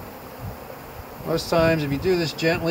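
Honeybees buzz steadily around a hive during queen mating flights, a close, continuous hum running beneath someone speaking calmly.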